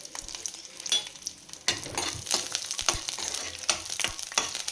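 Mustard seeds, curry leaves, garlic and chili powder frying in hot oil, close sizzling with bursts of crackle and spitting plus stirring scrapes, rising in intensity after a quieter start, with no voices.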